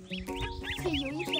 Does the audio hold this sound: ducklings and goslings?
yes